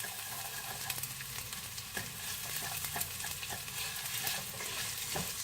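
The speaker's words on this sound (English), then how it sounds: "I'll let these continue to fry" Garlic fries in a pan for Spanish rice, giving a steady close-up sizzle with light crackles and occasional stirring scrapes, and no talking.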